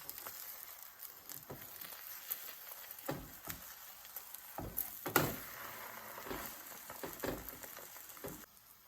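Quiet frying of beaten egg yolks in a pan, a soft sizzle broken by scattered pops and crackles of oil, with no one talking.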